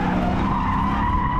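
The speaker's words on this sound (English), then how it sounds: "This is the Dodge Challenger SRT Hellcat, a car that's relentlessly fast, unapologetically loud, and unwaveringly ferocious" A Dodge Challenger SRT Hellcat skids with a loud, sustained tire squeal over a roaring engine, close and continuous throughout.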